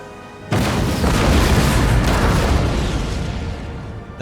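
Artillery fire crashing down in the video game Empire: Total War, a sudden loud boom followed by a sustained rumbling roar of explosions that lingers for several seconds.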